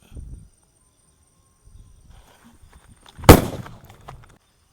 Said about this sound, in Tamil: திரி சின்னதாக இருக்கிறதுனால இதை வச்சுட்டு ஓடுறதுக்குள்ளே வெடிக்குது.